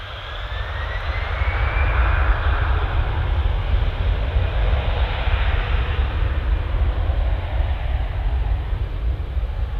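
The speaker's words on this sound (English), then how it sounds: "I have a brace of Jet 2 Sunburst livery aircraft" Jet2 airliners in Sunburst livery idle at an airport, their engines producing a continuous, fairly loud broadband roar with a steady low rumble and a faint whining tone, holding even throughout without any speech.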